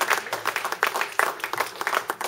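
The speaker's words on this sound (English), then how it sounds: "How about a round of applause for my mom?" An audience at a solo music performance in an art gallery claps in steady, scattered applause, fairly close and lively, with no talk over it.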